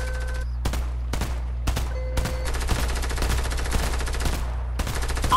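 Rapid gunfire in Fortnite, a string of sharp close shots in quick bursts over a steady low game hum, with no talking.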